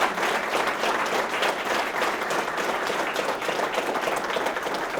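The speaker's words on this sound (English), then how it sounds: "I'd like you to give them an extra round of applause." An audience at a town's centennial celebration gives sustained, even applause, a steady wash of many hands clapping throughout at moderate loudness.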